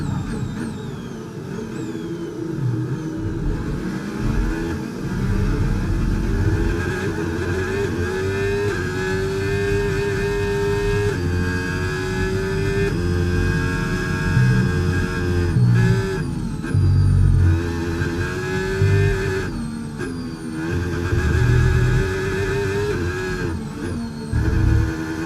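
An F1 25 video game Formula 1 car, a Ferrari in a Charles Leclerc career race, roars with engine revs that climb and drop through quick gear shifts, loud and continuous with no talking.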